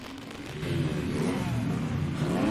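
Engine revving and accelerating with a steady mid-pitched roar from about half a second on, loud and continuous against a busy mix in a music video, a motorcycle being ridden on screen.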